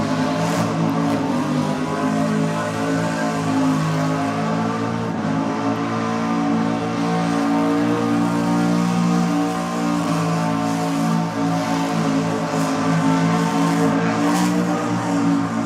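A race car roars at full power at Sydney Dragway, a dense, unbroken engine howl that holds steady and loud for the whole stretch with no pause or talk.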